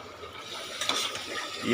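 Goat meat frying with onions in a pan, cooked Assamese style, gives a brief, even hiss of sizzling oil with a faint stirring rustle close by.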